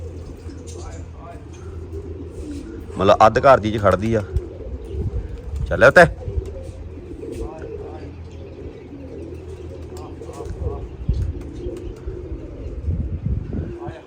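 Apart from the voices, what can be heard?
pigeons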